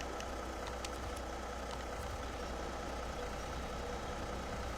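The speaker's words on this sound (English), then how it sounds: "Engine's still running." A Tatra truck engine idling in a snowy driving video game, a low steady rumble with a constant mechanical drone throughout, moderately quiet and without speech.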